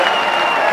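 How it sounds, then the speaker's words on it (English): Loud, steady crowd roar and applause from the arena audience in the WWF Attitude wrestling game on Dreamcast, a dense continuous wash of cheering that holds level throughout the short moment. "This crowd is crazy!"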